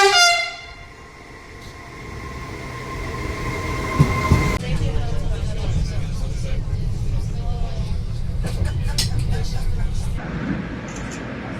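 A train on a rail line in Sicily rumbles steadily, with a tonal horn or brake whine at the start and a constant low clatter throughout, at moderate loudness.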